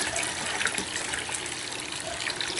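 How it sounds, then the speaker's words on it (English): Water pours steadily into a pail when making compost tea on an organic farm in the Philippines, a dense, continuous splashing gush close up with no voices. "So we are almost done with our 5 gallons of water"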